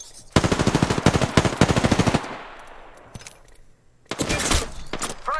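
Rapid automatic gunfire in a shooter video game, loud close bursts of rattling shots in two volleys, a crackling decay between them and a final burst with sharp impacts.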